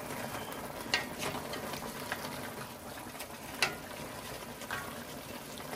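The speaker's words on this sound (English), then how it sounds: "Okay, so we got the tomato paste in there. Let's give this a stir." Tomato paste being stirred into a pot of ragu alla Napoletana, with soft sizzling and scraping spoon strokes and a few sharper knocks against the pot, close and fairly quiet.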